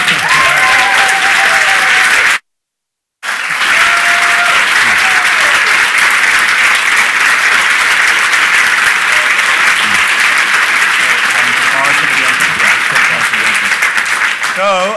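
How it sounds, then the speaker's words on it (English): Loud, dense audience applause at a summit event, a continuous roar of clapping close by with cheering, briefly cut out near the start before resuming at full strength, with a voice calling out over it. "Round of applause for Iain."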